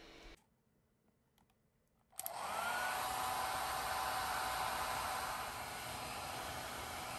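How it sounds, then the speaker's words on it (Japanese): A hair dryer blowing hot air at a carbon nylon 3D-printed part switches on after quiet clicks, rising to a steady close whoosh of airflow with a thin motor whine that holds to the end. "ヘアドライヤーの温風は100度以上になりますが、ほとんど変形はありませんでした。"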